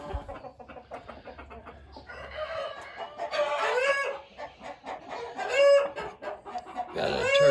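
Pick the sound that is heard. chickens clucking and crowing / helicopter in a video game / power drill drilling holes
chickens clucking and crowing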